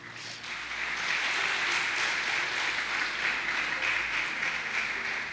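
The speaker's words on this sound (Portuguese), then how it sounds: "Dá uma salva de palmas para Jesus." A church congregation applauds during a live worship service, a steady wash of many hands clapping that swells in and holds for several seconds at moderate distance.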